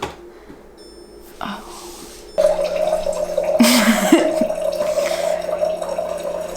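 A refillable water bottle fills at a dispenser. A steady stream of running water hums and trickles for several seconds, and a voice is faintly present.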